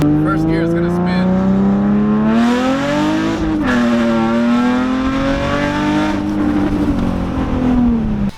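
An Infiniti G35 revs hard in first gear with its tires spinning, a loud, close engine note rising in pitch, dipping once at a shift or bog, then climbing again and holding steady.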